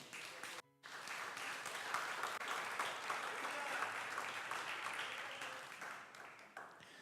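Church congregation applauding during a service, a sustained wash of clapping from a crowd after a brief pause, steady and fairly even before tapering slightly at the end.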